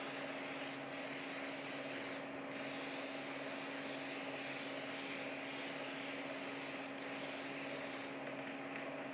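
A spray gun hisses steadily while deep blue paint goes onto a 1/4 scale Aquaman figure, the gun opened slightly for a fourth coat. The loud, continuous spray breaks off briefly a few times, with no talking.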